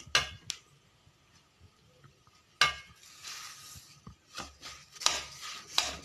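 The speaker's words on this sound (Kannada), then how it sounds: "ಸಕ್ಕರೆನ ಹಿಂಗೆ ಚೆನ್ನಾಗಿ ಮಿಕ್ಸ್ ಮಾಡ್ಕೊಬೇಕು ಬಿಸಿ ಇದ್ದಾಗಲೇ." Roasted semolina (sooji) and sugar stirred in a pan for laddoo. Soft scraping and gritty stirring come in uneven bursts, with a few louder clinks of the spoon against the pan, close and fairly quiet.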